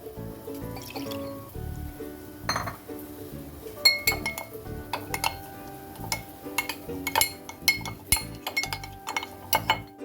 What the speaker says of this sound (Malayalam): ഇനി നമുക്ക് ഒരല്പം കഞ്ഞിവെള്ളം ഒഴിച്ചൊന്ന് കലക്കിയെടുക്കാം